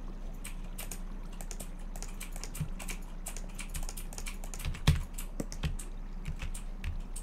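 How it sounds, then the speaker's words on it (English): Rapid, irregular clicking of fingers typing on a computer keyboard, steady throughout with an occasional louder key strike and no speech. "Oh wait, I'm already typing."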